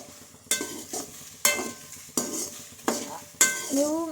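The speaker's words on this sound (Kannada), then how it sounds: "ಫುಲ್ಲು ಮೀಡಿಯಮ್ ಫ್ಲೇಮಲ್ಲಿ ಇಟ್ಕೊಂಡು ಕ್ಲೀನಾಗಿ ಫ್ರೈ ಮಾಡ್ತಾ ಹೋಗಬೇಕು" Carrots fried on medium flame and stirred in a pan, five sharp scraping strokes of a utensil against the metal, roughly one per second, close and clear over a soft sizzle.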